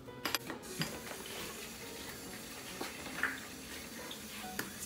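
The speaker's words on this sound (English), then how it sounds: "Now let's fill it up with water." Tap water runs steadily into a container at home, a continuous hiss with faint clinks of dishes and handling noises, no talk.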